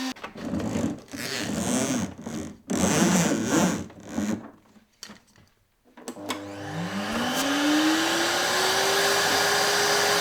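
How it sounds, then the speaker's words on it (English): A retractable wall-mounted vacuum fitted with a muffler starts up after a pause and runs steadily and loudly, its motor pitch rising as it spins up, preceded by some handling noise. "I can quite honestly say I've never owned a vacuum that's had a muffler before, but hopefully that makes for a quieter experience."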